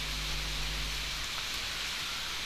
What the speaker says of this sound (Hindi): बारिश होने लगा भाई